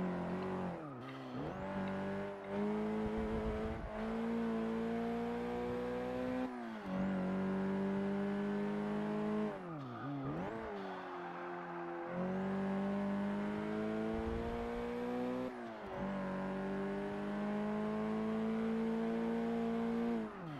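A Volkswagen Golf R hot hatch in the Forza Motorsport 6 racing game accelerates hard through repeated gear changes, its loud, close engine note climbing in pitch and dropping at each shift, with faint tire squeal.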